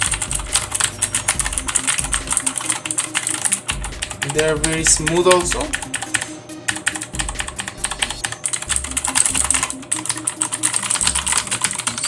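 Typing on the mechanical switches of a Rapoo VPRO V720 RGB keyboard: a dense, steady clatter of rapid key presses runs throughout, with a brief spoken remark over it partway through.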